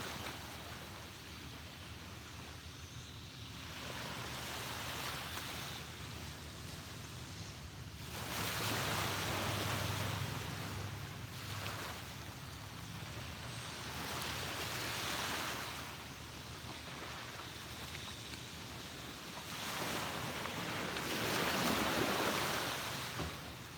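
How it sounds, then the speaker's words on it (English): Ocean waves wash onto a beach at sunrise in long, soft, rolling surges that swell and ebb steadily, with no voices. "soak in these colors and the sounds of the waves"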